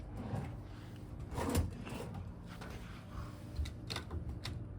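A hotel room drawer slides open and shut several times, muffled wooden scrapes and thuds at close range in a quiet room.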